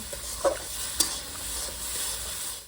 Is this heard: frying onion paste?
yes